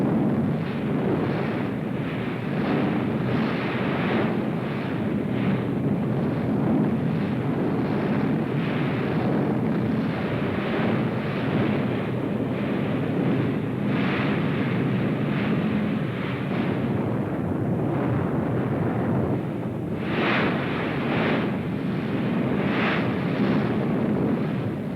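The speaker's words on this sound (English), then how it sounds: "Rocket guns, Katyusha, the Russians call them." Katyusha rocket launchers fire a sustained WWII Soviet barrage, a dense continuous roar of rumbling blasts and whooshing rockets with repeated surges, loud and unbroken throughout with no voices.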